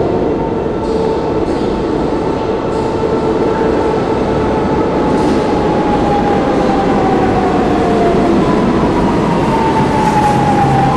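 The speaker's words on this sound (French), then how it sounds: "De l'autre côté, il y a un métro qui va arriver." A Lisbon metro train rumbles steadily and loudly close by, with a drawn-out metallic squeal sliding in pitch as it pulls into the station.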